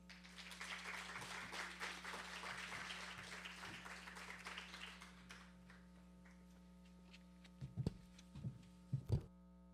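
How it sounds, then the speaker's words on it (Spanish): Audience applause welcoming a speaker at a Guadalupan devotion gathering, a steady, moderately faint wash of clapping fading out midway, over a constant low electrical hum, followed by a few louder thumps near the end. "recibamos al doctor Gustavo Watson con un fuerte aplauso"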